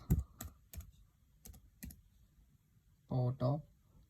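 Terminal command keyed on a computer keyboard: a handful of sharp, separated key clicks spread over a few seconds, close to the mic, followed by a short burst of voiced talk near the end.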